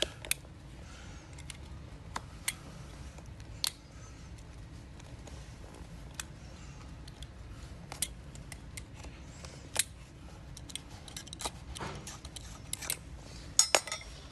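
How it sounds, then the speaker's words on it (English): A utility knife trimming melted excess material from floor corners around a vent, heard as quiet, scattered scraping and clicking cuts at close range with no talking. "Just use a utility knife to get rid of some of the excess material that will be left there in the corners."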